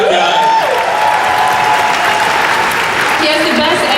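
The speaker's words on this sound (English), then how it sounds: "Final round of applause for that guy." Loud, dense applause from a convention panel audience in a large hall, sustained throughout with a voice speaking over it.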